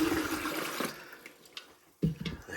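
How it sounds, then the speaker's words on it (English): Water poured into the reservoir of a Frigidaire countertop ice maker, a gurgling splashing stream that fades, then a short second pour with splashes, close by. "And I'm gonna add the water."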